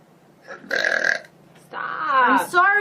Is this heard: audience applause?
no